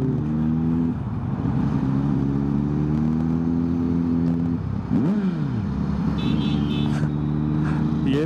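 A Kawasaki Z900 motorcycle fitted with a loud aftermarket exhaust idles with a deep, steady rumble, then blips the throttle in a sharp rev near the middle, alone and close by.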